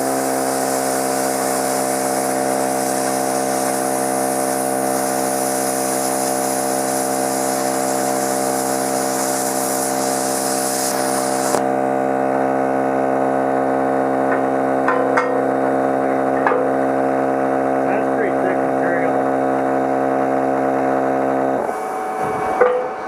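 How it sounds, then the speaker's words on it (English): A Hypertherm Powermax 30 AIR plasma cutter with a built-in air compressor runs with a loud, steady harmonic hum and hiss, the hiss dropping off partway through while the compressor drone continues, then cutting out near the end. "the air compressor turns on basically while I'm cutting, and when I'm done it turns off again"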